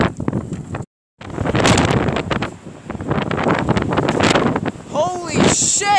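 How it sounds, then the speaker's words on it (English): Heavy wind with 65 mph gusts buffets the microphone in loud, rumbling gusts, with a brief dropout and some faint talking mixed in. "it's really windy outside. Crazy weather."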